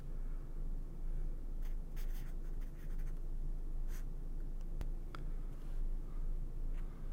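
Pencil or pen scratching steadily across paper while roughing out a design sketch, with brief strokes and scribbles standing out over a low background hum; close and fairly quiet, no talking.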